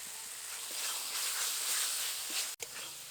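Fried potato and jackfruit stirred into a spice mix with softened mango for a sour jackfruit dish, giving off a soft, steady sizzling hiss in a pan with one sharp clunk near the end.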